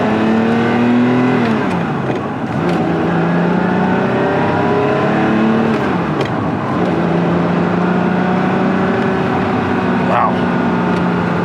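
A 1983 Ferrari 512 Berlinetta Boxer BBi engine runs steadily and loudly in Las Vegas traffic, its droning tone sliding down and climbing again as the car pulls off, with no pause in the sound.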